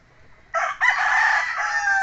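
A gamefowl rooster from a winning breeding line crows once, a loud, close, drawn-out call that starts after a short quiet moment and holds to the end with no talk over it.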